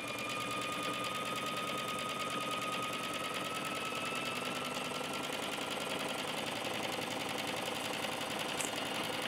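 A sewing machine stitches flannel quilt squares for a baby quilt, a quiet, steady rapid needle chatter that runs evenly throughout with no voices.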